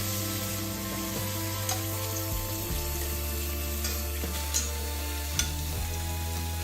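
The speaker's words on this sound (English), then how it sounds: "Then we brown the meat in the bacon fat." Beef browns in bacon fat in a pan for boeuf bourguignon, giving a steady close sizzle and frying hiss with a low hum under it and occasional faint clinks, no voices.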